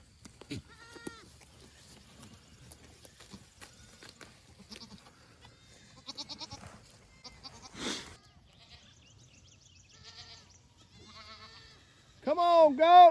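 Goats bleat in a farm pasture while grazing fresh grass, scattered calls near and far over quiet background, with a person talking in between and a loud close bleat at the end.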